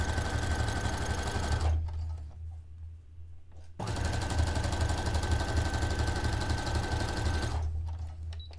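Sewing machine stitching a lining to bed-sheet fabric at a long stitch length along the seam allowance, running in two steady, close bursts of rapid mechanical chatter with a short pause between.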